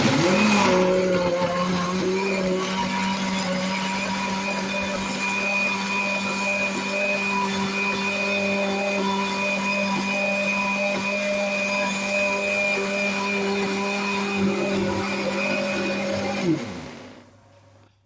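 Electric grinder whirring steadily as it grinds spices for a chicken-free, meat-free seasoning blend, a loud continuous motor drone with a constant pitch lasting about sixteen seconds before winding down abruptly.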